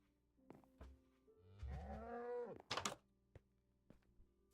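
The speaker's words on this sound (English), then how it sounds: "Cow." A cow moos in Minecraft, one long low bellow in the middle with a rising, harmonic tone, surrounded by brief game clicks and thumps; no talk over it.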